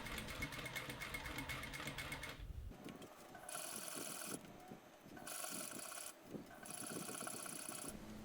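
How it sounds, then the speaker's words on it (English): A sewing machine stitches trim onto a costume pant leg a quarter inch from the edge, running in steady bursts of loud, close mechanical whirring separated by brief pauses. "Starting at the bottom of the pant leg, stitch the trim to the pant leg 1/4 inch from the edge, exactly along the previous stitch line."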